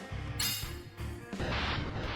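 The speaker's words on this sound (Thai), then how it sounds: "กด R จะเป็นการวางระเบิดลูกใหญ่เนาะ" A big bomb blast from the R skill in the Roblox game A Universal Time, a sharp explosive boom followed by a second rumbling burst within about two seconds.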